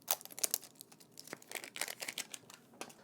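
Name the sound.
unwrapping packaging of an Apple pencil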